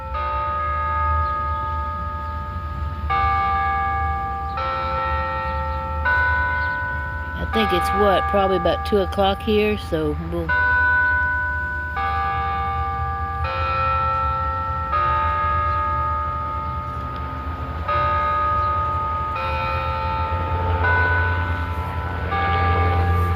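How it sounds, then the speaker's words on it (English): Church bells ring on a town square in a steady sequence of sustained, resonant tones, with someone talking briefly over them partway through. "And we get to hear the bells."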